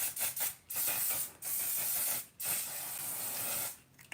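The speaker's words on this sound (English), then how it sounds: "just a tiny little spray" A makeup setting spray bottle gives three hissing pumps, each a second or so long, close and clear, with short pauses between them.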